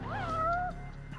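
A single cat in the video game Judgment gives one clear, rising then drawn-out meow lasting under a second over faint background game ambience.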